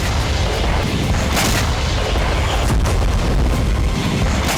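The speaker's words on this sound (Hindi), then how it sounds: "रूस के हमले से यूक्रेनी टैंक में जबरदस्त विस्फोट हुआ।" A tank explodes under attack in the Russia-Ukraine war: loud booming blasts and rumbling detonations roll through, a dense, noisy burst of explosive sound with repeated heavy thuds.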